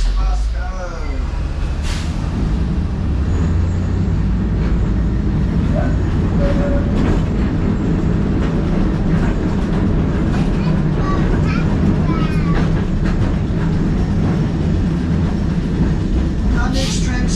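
A tram rumbles steadily along its rails at Auckland's dockside near Gaunt Street, with rhythmic clicks and squeals, loud and close throughout, with a voice speaking over it.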